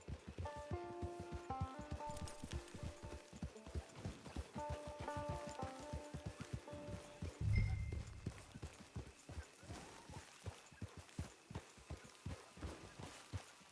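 Horse hooves clip-clop in a steady walking rhythm through a PS4 video game scene, close and clear over soft rain, with a brief low thump partway through.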